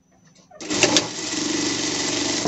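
A sewing machine runs a seam along a binding strip on a Paw Patrol Chase costume, starting abruptly and humming steadily and close for about two seconds.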